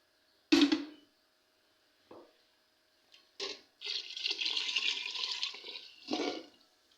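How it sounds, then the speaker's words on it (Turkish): Boiling water is poured into a pot of ayran soup. A few short splashes are followed by a sustained, close pour and a final splash, with no voices. "1 litreye kadar kaynar su daha ekleyeceğiz."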